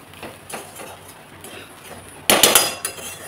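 A cup of grated coconut is sautéed and stirred in a pan, with scattered scrapes and clinks of a spatula against metal that end in a louder burst of clatter near the close.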